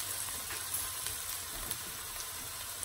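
Onions for beef Hungarian goulash sizzle steadily as they fry and brown in a pan, a close, even crackling hiss with no voices.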